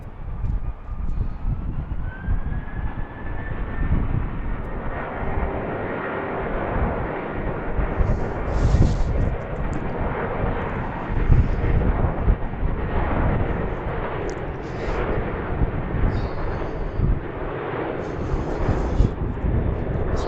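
An airliner departs BWI airport in Baltimore, its engine roar a steady broadband rumble with a rising whine early on, continuing throughout at moderate distance amid outdoor ambience and intermittent talk.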